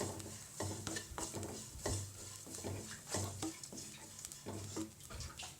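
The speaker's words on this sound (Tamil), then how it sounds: "இந்த மாதிரி நல்லா கோல்டன் ப்ரௌன் வர வரைக்கும் நல்லா வறுத்துக்கோங்க" Coconut, a bit of cinnamon and three shallots dry-roast in a pan until golden brown for bitter gourd curry, with steady scraping stir strokes and a faint sizzle close by, no voices.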